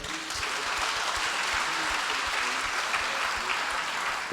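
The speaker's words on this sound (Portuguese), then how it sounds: "Você pode dar uma salva de palmas?" A church congregation claps steadily and evenly for several seconds, a dense wash of applause heard from within the room.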